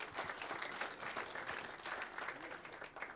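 Sustained audience applause fills a hall at a Lithuanian sports journalists' awards ceremony, many hands clapping steadily and densely at close range with no break.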